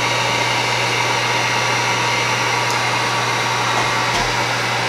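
Hair dryer blowing on a resin pour, a loud, constant whooshing motor hum with a steady low tone that continues unchanged throughout, with no speech.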